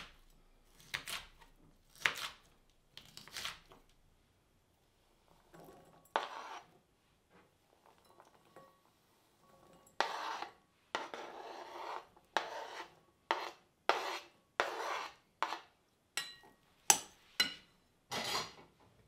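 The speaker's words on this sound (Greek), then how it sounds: "Καθαρίζουμε και κόβουμε σε κυβάκια 2 κόκκινες πιπεριές." Two red peppers are diced into cubes with a knife, sparse cuts at first, then a fast, regular series of crisp chopping strokes near the end, close and without talk.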